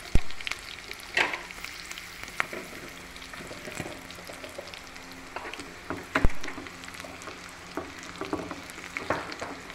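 A dal makhani tadka sizzles and spits in a hot pan, with a steady crackling hiss punctuated by sharp pops and splatters, close and fairly quiet, with no voices.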